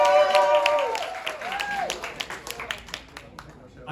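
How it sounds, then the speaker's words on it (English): Audience cheering and clapping for a contestant at a training event, scattered claps and whoops rising over a murmuring crowd, with whistles or shouts early on and claps thinning toward the end. "cheer for Norman"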